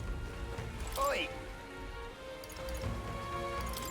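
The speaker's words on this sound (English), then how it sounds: "I don't think he wants to be out in the rain." Soft, continuous rainfall in the video game Metaphor: ReFantazio, a low steady patter under game music and a few brief tonal chimes.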